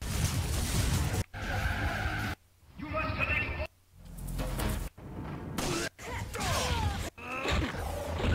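Burnout 3 racing on PlayStation 2, with cars skidding and crashing in loud, chaotic bursts. Sharp tire squeals and engine roar come in several separate segments, and game sounds and voice-like noises play over the action.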